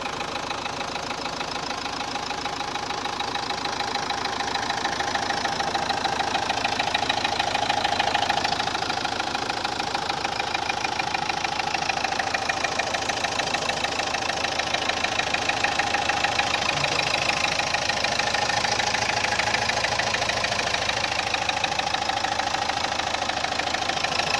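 Steady diesel idle from a 2013 Renault Duster RXZ, a continuous even clatter that holds loud and close for the whole stretch with a slight swell partway through and no voices.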